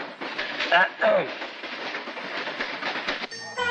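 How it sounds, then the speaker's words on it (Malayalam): A train rolls in toward a station platform, a steady rumbling rattle with clattering under-tones, brief squealing near the start and a short whistle-like tone at the end, with people talking faintly over it. "Train number 20 Madras Mail coming from Trivandrum Central is now arriving on platform number 6."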